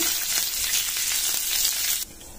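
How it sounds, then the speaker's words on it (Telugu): Loud, steady sizzle of a tempering with dry red chillies frying in hot oil, crackling continuously for about two seconds, then cutting off abruptly to near quiet. "తాలింపు మంచిగా వేగిపోయిందండి"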